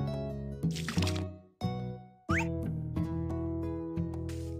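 Water being filled in Harvest Moon: A Wonderful Life, several short liquid splashes and drips set against a sustained tonal game music bed, close and clear, with no speech.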